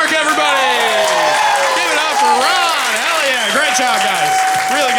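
A roast battle comedy show crowd in Hartford applauds and cheers the winner, a broad wash of clapping running under loud voices calling out over it.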